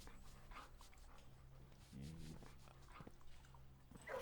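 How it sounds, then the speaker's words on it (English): Dogs in the video game Blue Prince pant and whimper softly in a kennel, with brief yips and breathy sounds at low volume, while someone talks. "There are actual dogs in here."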